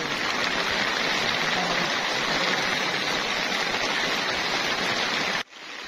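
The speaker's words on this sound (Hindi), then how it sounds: "यहाँ पे तो बादल नीचे है और बारिश हो रही है।" Rain falling in the mountain hill station of Nathia Gali, a steady, dense wash of hissing water close by that runs evenly before abruptly dropping to a quieter level at the end.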